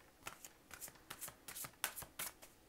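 A deck of tarot cards is shuffled before a reading: a series of soft, rhythmic riffling bursts close to the microphone, about ten quick shuffles in a row with no talking.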